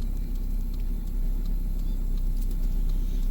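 A car's engine hums at low revs, steady and close, as a beginner pulls away slowly in first gear on half clutch, with no voices.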